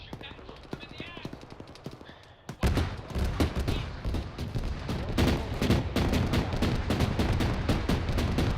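Gunfire aimed at a BMP armoured vehicle in an Arma military game, starting quietly and then bursting into a sustained loud volley of rapid shots after a couple of seconds, with voices on the radio underneath.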